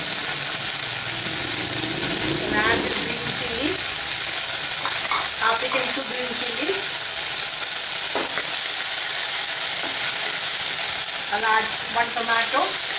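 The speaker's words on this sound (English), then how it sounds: "Just sauté this for a few seconds" Ginger garlic paste sautéing in a little hot oil in a pan makes a loud, continuous sizzle, with intermittent scraping and stirring strokes of a utensil.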